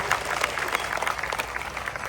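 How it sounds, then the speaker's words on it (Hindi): Audience applause at a Shri Ram Mahayagya religious gathering in Bhaisana, welcoming the Bollywood actor Ashutosh Rana. A steady wash of clapping from a crowd fills the short stretch, moderately loud and unbroken, with no clear talk over it. "ताली बजाकर उनका स्वागत करेंगे"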